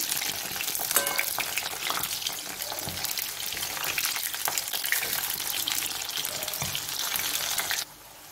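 Crispy fritters with leafy greens sizzling and crackling in hot oil as they are gently flipped, a dense continuous hiss with small splattering pops, close and fairly loud, cutting off abruptly near the end.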